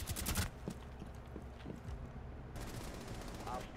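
Rainbow Six Siege match gunfire, faint and distant: a quick rattling burst of shots at the start, then scattered softer pops and another rapid flurry near the end over quiet background.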